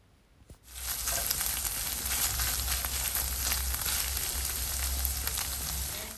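Meat frying in tomato paste in a pan, a sudden onset of loud, steady sizzling after a brief quiet clatter, continuing evenly to the end.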